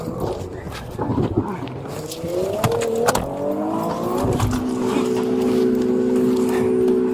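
An SUV engine revs up at speed with a rising whine, loud and close, under shouting voices during a police confrontation.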